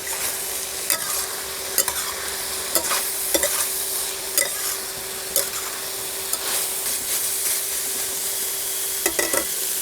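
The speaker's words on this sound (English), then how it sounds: "you can hear the sizzling sound" Pork and dried sweet potato leaves sizzle in a pan for Hunan braised pork as the liquid cooks off, with a constant frying hiss broken by regular scraping clicks of the stirring utensil.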